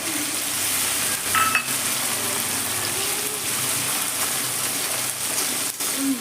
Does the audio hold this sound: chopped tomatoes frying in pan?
yes